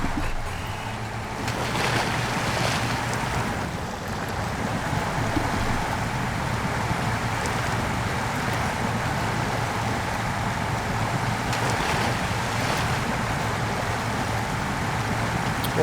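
A heavy truck in SnowRunner wades through a river, its engine drone mixing with steady rushing and splashing water in a continuous wash of noise.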